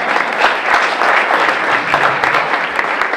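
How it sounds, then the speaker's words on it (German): An audience at a 35th-anniversary celebration of the Diakonie Haus Britz care home applauds steadily, dense and continuous clapping from a sizeable crowd filling the room. "also Sie können weiter klatschen."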